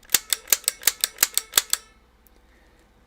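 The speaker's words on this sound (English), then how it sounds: "The Nintendo Zapper is one of the most iconic gaming accessories of all time. Even just hearing this click," A Nintendo Zapper light gun trigger clicks nine times in a quick, even sequence, sharp and close, then stops, leaving near silence.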